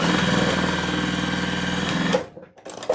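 A sewing machine stitches satin fabric in a fast, steady mechanical whir for about two seconds, close and loud, then stops abruptly, leaving quiet handling noises.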